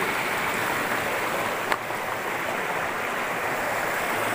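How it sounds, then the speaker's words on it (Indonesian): Swift river current rushing near Watu Krapyak waterfall, a steady broadband roar of flowing water, close and constant throughout with one brief splash or knock partway through. "Arusnya deras sekali."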